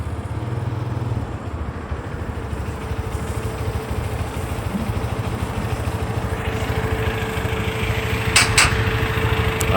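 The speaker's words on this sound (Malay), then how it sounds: "So kita cuba start motosikal ni, dengar dia punya bunyi enjin sama ada bunyinya masih lagi lembut ataupun kasar." A Z15GT motorcycle engine runs at a steady idle close by, with an even low putter throughout and a couple of brief sharp clicks near the end.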